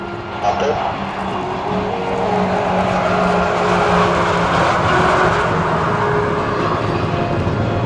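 Aircraft of the Orlíky team take off as a group at the Czech International Air Fest, a broad roaring engine noise that builds and holds, with a voice talking over it.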